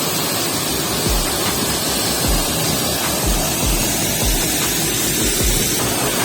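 Nergola Waterfall in Pakistan, about 50 feet high, pours in a loud, continuous broadband roar of rushing, splashing water heard up close, steady throughout with no voices.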